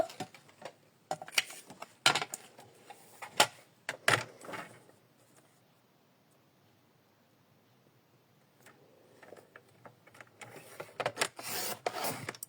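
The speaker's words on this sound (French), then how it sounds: "on va couper avec le massicot" A paper guillotine trimmer cuts card for a folded greeting card with close, quiet scraping strokes and clicks in uneven bursts, separated by a near-silent pause in the middle.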